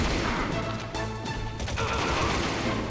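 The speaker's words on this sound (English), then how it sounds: "3 gunshots is all it takes" Gunfire in the PSX game Metal Gear Solid cracks out in rapid, loud bursts, several sharp shots clustered together over a steady electronic background score.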